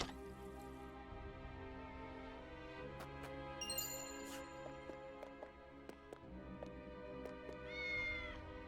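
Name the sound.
cat meowing in the video game Triangle Strategy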